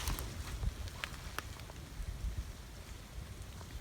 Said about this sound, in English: There's a light rain